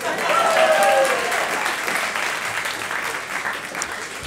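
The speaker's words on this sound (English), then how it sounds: "Round of applause, Chris Iton." An audience at a question-time panel event breaks into steady applause, loudest at first and tapering gradually over a few seconds, with faint voices underneath.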